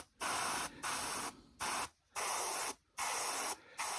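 An airbrush sprays paint thinned about half and half with airbrush thinner, firing in six or seven crisp hissing bursts separated by short silences, close by and steady in level.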